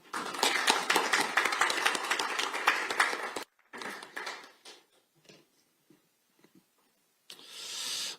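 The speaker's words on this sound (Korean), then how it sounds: "큰 박수 부탁드립니다" An audience at a Korean political forum applauds, dense, loud and steady clapping for about three seconds, then scattered fading claps that trail off into near silence before a noisy rush returns.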